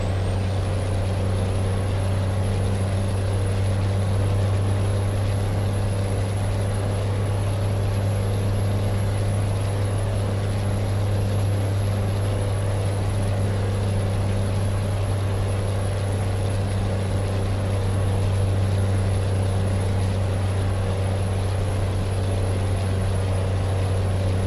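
A heavy truck's engine drones at a steady, loud pitch in American Truck Simulator on a British Columbia highway, a constant low rumble with a sustained high whine above it.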